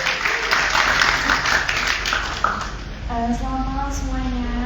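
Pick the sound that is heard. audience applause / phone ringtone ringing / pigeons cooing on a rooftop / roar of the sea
audience applause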